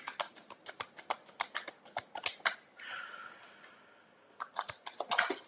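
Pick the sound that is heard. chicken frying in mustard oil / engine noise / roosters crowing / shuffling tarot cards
shuffling tarot cards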